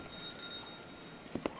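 Bell in the indie horror video game The GroundsKeeper, two short faint strikes near the end of a quiet, hissy stretch, with no one talking.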